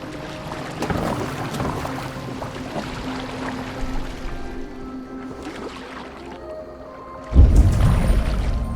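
A boat moves on water in Assassin's Creed Valhalla, with soft splashes and creaking over ambient background, then a louder surge of water near the end.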